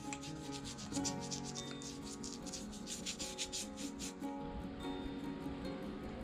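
A paint-loaded brush rubbed against a shirt to remove excess paint, close, soft rhythmic scrubbing strokes repeating steadily, quiet and alone.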